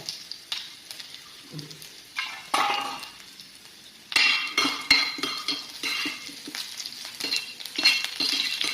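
Chopped onions and green chillies frying in a pan: a steady sizzle broken by several sharp spoon scrapes and clinks against the metal, close by, louder in the second half.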